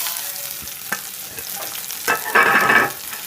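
Coconut pieces and chopped shallots frying in a pan, with a soft steady sizzle, a few spoon scrapes and stirring knocks, and a louder burst of crackling near the end.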